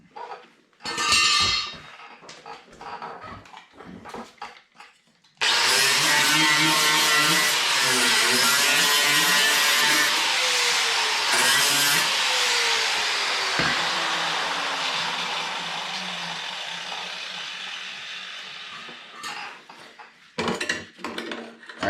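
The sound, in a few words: wire wheel stripping paint from Honda ATC 70 seat frame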